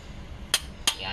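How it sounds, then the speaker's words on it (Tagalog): Two sharp clicks from a torque wrench reaching its 120 setting while tightening cylinder head bolts on an Isuzu 4HL1 engine, close and crisp, about a third of a second apart over low background noise. "pag tumunog na itong torque wrench, ibig sabihin nasa 120 ng torque niyan"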